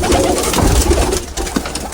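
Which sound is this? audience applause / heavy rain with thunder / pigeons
pigeons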